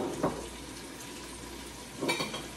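Wild scallops fry in butter in a pan, giving a steady soft sizzle with two brief louder bursts of spitting and clatter near the start and end.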